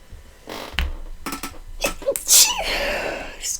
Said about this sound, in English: Oh, I feel a sneeze building up.